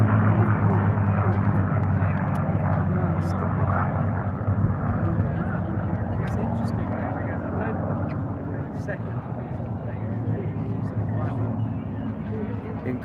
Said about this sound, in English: Look at that, P-40's going for the pass.